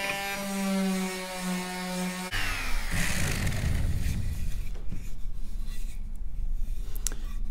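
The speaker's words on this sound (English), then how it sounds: "Just move the palm sander back and forth and check it every now and then to see how you're doing" A palm sander works over wood on a paddleboat, a steady electric hum at first, then a rough scraping, rasping grind as the pad moves back and forth across the surface, close and fairly loud.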